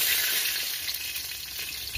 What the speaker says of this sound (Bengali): তাই একটু মাছগুলো হালকা হালকা ভেজে নিব, বেশি ভাজাও যাবে না